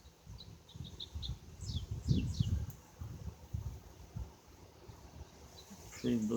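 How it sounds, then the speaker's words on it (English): A bird sings in a flower garden under open sky, its short chirps and quick descending trills faint and distant over low outdoor rumble and occasional murmuring. "Just let y'all hear the sound of the bird right now."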